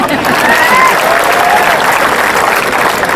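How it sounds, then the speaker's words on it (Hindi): A crowd at a Hindi comedy poetry show applauds loudly and steadily, with a faint voice or two in the background. "आप सबसे निवेदन करता हूँ मेरे स्वागत में दोबारा जोरदार तालियां बजाएं।"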